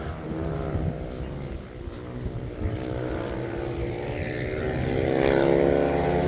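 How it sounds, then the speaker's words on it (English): Go-kart engines on a dirt track drone steadily in the distance, a continuous buzzing whine that swells slightly louder toward the end, with no voices. "They sound like go-karts or something over there though."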